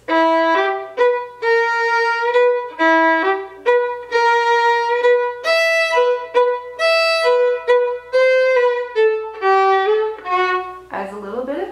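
Solo fiddle playing one part of a tune in a clear, close melody of bowed notes and phrases with short gaps between them, ending on a brighter, scratchier flourish.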